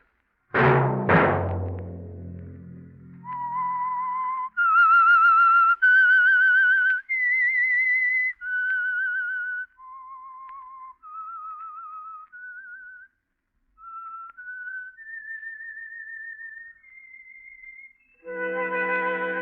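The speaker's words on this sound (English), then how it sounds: "Let that whistle be your signal for the Signal Oil program, The Whistler" The theme whistle for The Whistler radio program, heard alone as a clear solo whistled melody of sustained, wavering notes, opening after two sharp chime-like hits and ending on a brief orchestral chord.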